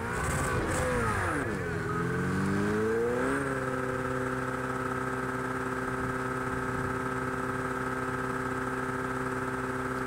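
An Italian race car in Project CARS 2 revs up and pulls away from the pit lane at the Circuit de Barcelona-Catalunya, its engine rising in pitch, then settling into a steady, droning hum that carries on alone.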